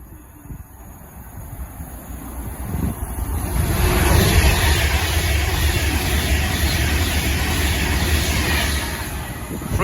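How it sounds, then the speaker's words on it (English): An Avanti West Coast Pendolino train passes through a station near Harrow and Wealdstone, its rushing wind roar swelling after a few seconds and holding steady and loud before easing slightly at the end. "the next train to pass by will be an Avanti West Coast Pendolino"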